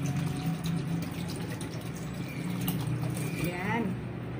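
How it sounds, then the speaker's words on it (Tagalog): Water pours into a cooking pot of chicken feet being braised with Sprite and oyster sauce, a steady splashing fill under kitchen background noise, with a brief rising gurgle near the end. "Dagdagan natin ng tubig."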